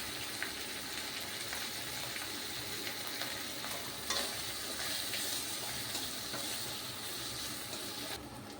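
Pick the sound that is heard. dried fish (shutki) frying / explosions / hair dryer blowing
dried fish (shutki) frying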